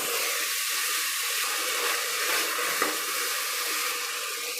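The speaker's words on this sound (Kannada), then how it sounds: "ಎರಡು ಟೊಮೆಟೊ ಹಣ್ಣನ್ನ ಸಣ್ಣ ಸಣ್ಣದಾಗಿ ಕಟ್ ಮಾಡಿಟ್ಟಿದ್ದೀನಿ ಅದನ್ನು ಸೇರಿಸ್ತಾ ಇದ್ದೀನಿ" Chopped tomatoes hit hot oil in a tempering for tomato bath, giving a loud, continuous hiss and sizzle that holds steady without a break and with no voices.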